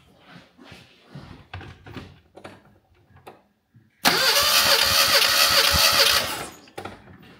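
A Classic Mini engine cranks on the starter during a compression test: a loud, even churning burst of about two seconds that stops abruptly, after a stretch of low muffled voices.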